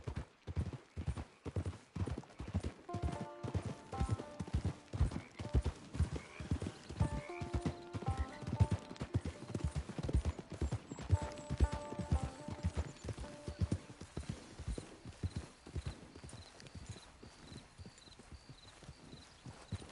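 Horse hooves clip-clop in a steady walking rhythm on hard ground in a Wild West setting, with brief whinnies and faint creaks mixed in, fairly close and fading slightly toward the end.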